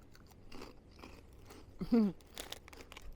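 Crunchy chewing on sweet, crisp onion-flavoured snacks from Grenada, a few close bites and munching with one louder crunch in the middle, no talking.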